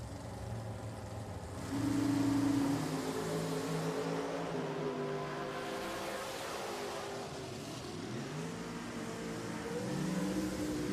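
A dragster at Richmond Dragway in an I-95 Series race, its engine note climbing in rising harmonic sweeps as it launches and pulls away, with a second tone layered over a steady roar.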